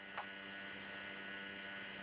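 A Wii console runs with a steady, low electrical hum and faint whirring drone, constant and quiet throughout, with no voices over it.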